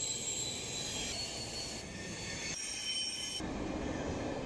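Steady rumble of a long-distance train between Frankfurt and Berlin, with rail and wheel noise running continuously and a high squealing tone over it. Fairly loud and close, with no voices.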